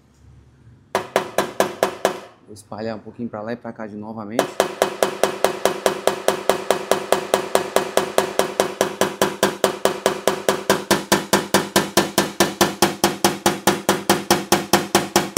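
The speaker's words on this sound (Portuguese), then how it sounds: "Um martelo ali, ó." A hammer taps out a dent along a body crease on a Renault Fluence panel, a long run of steady, evenly spaced metallic knocks following a few scattered taps, with someone talking briefly near the start.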